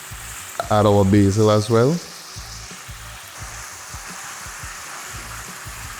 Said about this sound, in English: still allow the garlic to saute in the oil